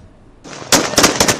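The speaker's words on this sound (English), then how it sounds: "Gunshots rang out in celebration across Syria's capital on Sunday" Celebratory gunfire in Damascus, Syria, after rebel forces declared control of the capital: a burst of loud, sharp shots crackles in rapid overlapping volleys after a quieter rumbling start, with no talking.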